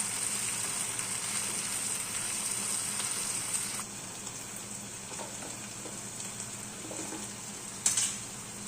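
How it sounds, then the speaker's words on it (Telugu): Broad beans stirred into a hot tempering in a pan, giving a steady, even sizzle of frying with soft stirring scrapes and a brief louder clatter near the end, no voices. "చిక్కుడుకాయలు కూడా వేసుకొని అంతా తాలింపు చిక్కుడుకాయలకు పట్టేలాగా మొత్తం కలిపి వేసుకోవాలి."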